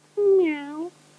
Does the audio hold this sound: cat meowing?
yes